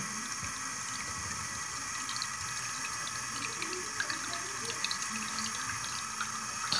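Tap water running steadily into a container to fill a bath for a hamster, a constant close gush and splash lasting the whole stretch with no talking.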